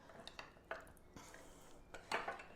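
Jam is stirred in a bowl for filling sweet buns. A spoon gives quiet, intermittent scrapes and clinks against the bowl, close up and faint.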